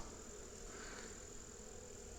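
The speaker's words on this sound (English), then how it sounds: "All right, we got lots of bees, lots of bees." A steady, dense buzzing hum of many bees at a hive fills the air, continuous and fairly close, with no talking.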